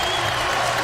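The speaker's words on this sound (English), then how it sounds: "the crowd here at Assembly Hall trying to urge the Hoosiers on" Basketball crowd at Assembly Hall cheering on the Indiana Hoosiers against Illinois, a dense roar of applause and voices filling the arena, loud and sustained.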